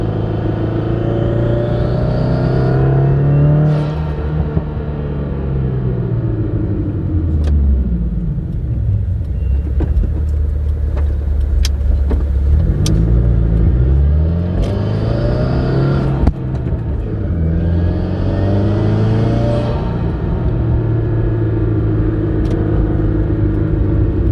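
Subaru WRX (2015 or later) engine revving up and down repeatedly with a rushing turbo intake whoosh; faint blow-off valve fluttering bursts between revs, loud and close throughout.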